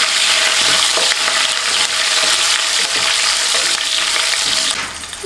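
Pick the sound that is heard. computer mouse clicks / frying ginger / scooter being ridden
frying ginger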